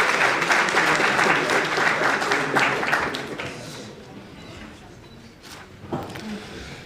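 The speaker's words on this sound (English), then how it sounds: "A round of applause." Loud audience applause at a memorial lecture fades out after about three seconds, leaving quieter room noise with a few scattered claps.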